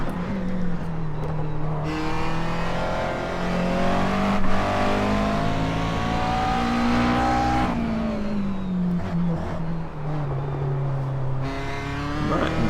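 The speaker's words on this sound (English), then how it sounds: "that bit of tail happiness that you get when you're trying to get back on the gas up the hill" A sim race car in iRacing at Watkins Glen accelerating uphill, engine pitch climbing steadily through the gears with brief shift dips, a continuous loud close drone with light tyre noise and no talk.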